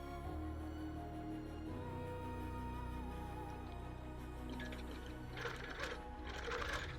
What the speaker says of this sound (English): So I'm going to go needle down, needle up, needle down, needle up, grab my thread